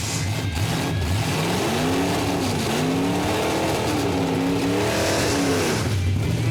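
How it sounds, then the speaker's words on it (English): Blown Chevrolet Nova drag racing car doing a burnout, a loud continuous engine roar that rises and falls in pitch as it revs, filling the whole stretch with no voices. "Not much of a burnout, was it?"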